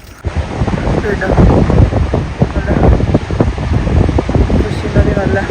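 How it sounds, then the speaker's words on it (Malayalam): A mountain river rushes loudly with a continuous churning roar on the Everest Base Camp trek in Nepal, mixed with gusty wind buffeting the microphone. "നദി നല്ല കുത്തി ഒഴുകുന്നത് കണ്ടോ"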